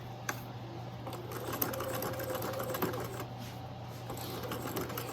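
Sewing machine stitching a garment placket, a close continuous mechanical hum with a fast ticking needle beat held steady throughout, with no talking.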